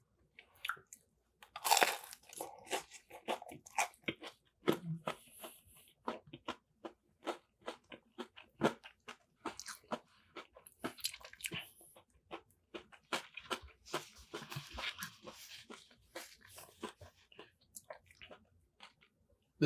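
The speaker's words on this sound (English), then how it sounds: "A spring roll here. It's gonna be crunchy and messy." Loud, repeated crunching bites and chewing of a large crispy spring roll, close up, with sharp crackly bursts throughout and no talking.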